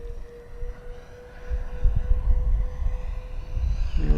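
An ARROWS Hobby MiG-29 Fulcrum RC jet doing touch-and-go passes over a grass field, its electric ducted fan whining steadily and building as power comes in, with wind rumble and no talk.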